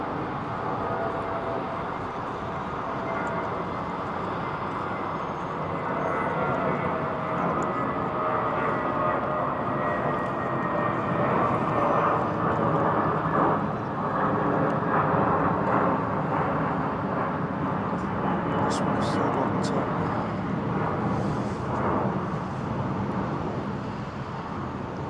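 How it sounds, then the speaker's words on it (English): Passenger aircraft engines roaring steadily during a go-around at London Heathrow, a sustained broadband rumble that swells slightly midway, with talk in the background. "We had somebody still on the runway, so we've had to perform what's called a go around."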